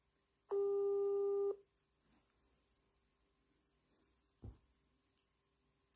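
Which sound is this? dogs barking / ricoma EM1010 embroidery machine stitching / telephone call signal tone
telephone call signal tone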